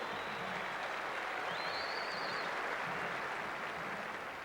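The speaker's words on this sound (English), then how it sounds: "Come on, give him a big clap" A crowd at the 1991 AFL Reserves Grand Final presentation claps for coach Rodney Eade, a dense, even, fairly faint applause filling the whole stretch, with a faint voice briefly underneath.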